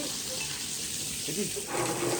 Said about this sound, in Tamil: தண்ணி சவுண்டு தான் கேட்கும்